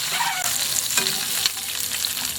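Food sizzles and crackles steadily in hot cooking oil in a pan, a close, continuous frying hiss that carries on alone without any talk.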